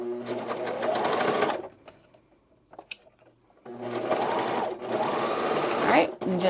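A serger stitching a classic tee, two long loud buzzing runs of the machine separated by a quiet gap with light handling clicks, and a voice speaking during the work.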